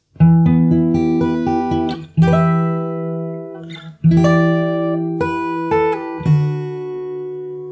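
Fingerstyle acoustic guitar picks out the melody of a song, with a quick run of plucked notes followed by longer ringing ones and low bass notes, close and loud with no voices.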